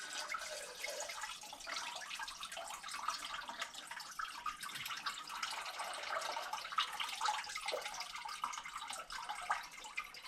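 Antifreeze drains out of a 1964 Plymouth Fury station wagon onto a garage floor in a steady, close, hissing gush of liquid that runs without a break.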